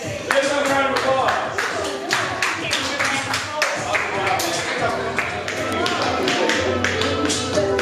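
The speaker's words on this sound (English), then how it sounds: "Give another round of applause." A round of applause at an open house event, with scattered, uneven claps and taps mixed with voices and cheering over several seconds.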